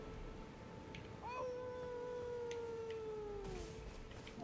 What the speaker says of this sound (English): your howling's a little annoying